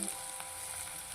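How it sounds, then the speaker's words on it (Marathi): Onion frying in a pan for paneer bhurji, giving a steady close hiss and sizzle with faint stirring scrapes, no voices. "कांदा आपल्याला जास्त लालसर असा भाजायचा नाहीये, अर्धा कच्चाच ठेवायचा आपल्याला कांदा।"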